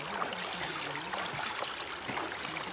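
Water rushing through a double Robinson gold sluice at an outdoor dig, a steady close stream of trickling, splashing flow without pauses.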